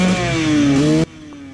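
A Gas Gas enduro motorcycle engine revs loud and close at the start of a hard enduro race, its harmonic drone climbing and dipping for about a second before cutting off abruptly.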